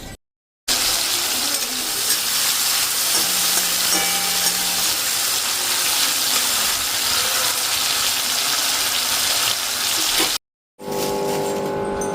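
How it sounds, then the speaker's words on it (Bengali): Malabar spinach with salt, turmeric, green chilli and five-spice cooks in a pan, giving a steady, loud sizzling hiss that runs without break, cut by two short silences. "শাকটা বসিয়ে দিয়ে আসলাম পুঁই শাকটা হতে থাক নুন হলুদ কাঁচা লঙ্কা দিয়ে পাঁচ ফোড়ন দিয়ে বসিয়ে দিয়ে আসলাম"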